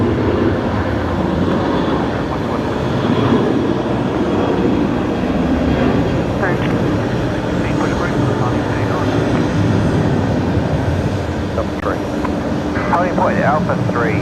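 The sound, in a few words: Airbus A330 aircraft at Brisbane Airport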